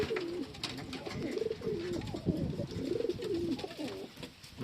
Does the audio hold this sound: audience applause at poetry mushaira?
no